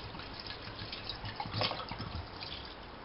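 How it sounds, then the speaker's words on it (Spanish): Red wine pours into a pot of Iberian pork cheeks with bay leaf and rosemary, a steady close liquid splash and trickle lasting throughout. "le ponemos el laurel, el romero y le vamos a echar el vino tinto"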